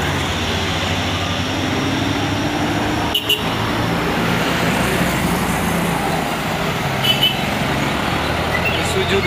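Two heavily loaded Isuzu trucks grind up the steep Bukit Kodok hill with a loud, steady engine roar and road noise, heard up close and continuous throughout.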